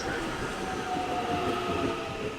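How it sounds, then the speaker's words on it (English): Southern Line three-carriage train pulling into a station platform, a steady loud rumble of wheels and motors with broadband rail noise throughout, no voices. "The next train arriving at platform 2 is a Southern Line service to Pukekohe"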